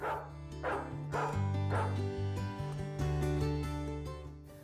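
A dog barks again and again in short, sharp yips over steady background music.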